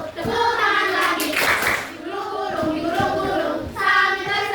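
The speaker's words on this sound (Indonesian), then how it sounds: "Bertepuk tangan" Hands clapping during a children's action-song game, a few sharp claps mixed under a voice singing or chanting in a sing-song way.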